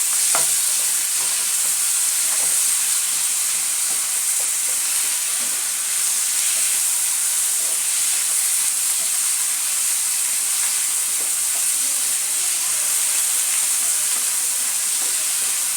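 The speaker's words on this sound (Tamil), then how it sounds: "ஒரு ரெண்டு வதக்கு மட்டும் வதக்கிக்கலாம்" Chopped coriander being sautéed with tomatoes in a pan for tomato chutney, a loud, steady sizzle and hiss close up, with faint scraping stirs now and then and no talking.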